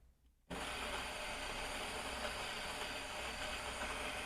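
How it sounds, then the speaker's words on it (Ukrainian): Aroma Plus burr grinder inside a Melitta Purista bean-to-cup coffee machine grinding Colombian arabica beans, starting abruptly after a brief quiet moment and then holding a steady, fairly quiet whir. "Працює досить тихо, бо ця фірмова кавомолка Aroma Plus, вона сама по собі дуже тихенька."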